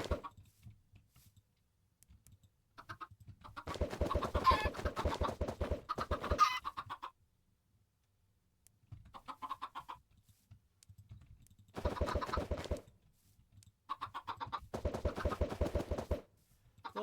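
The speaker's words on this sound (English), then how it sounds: "Look at all these chickens." Minecraft chickens cluck in repeated bursts separated by silent gaps, close and moderately loud, with faint clicking between the bursts.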